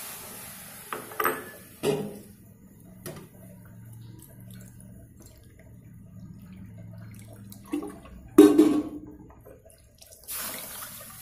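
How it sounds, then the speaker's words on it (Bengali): Water is poured from a bowl onto sugar in a pan to make thin syrup, with several short splashing pours and clunks of the bowl, separated by quiet stretches. "তো 3 বাটি জল আমার দেওয়া হয়ে গেল।"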